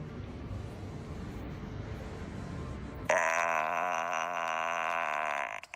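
A long, loud, drawn-out burp rises suddenly out of low background noise and holds with a rough, buzzing tone for a few seconds before cutting off.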